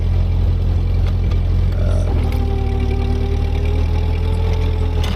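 A Ford 8N tractor engine idling steadily and loudly up close, a constant low rumble with a faint rising tone partway through, no talk.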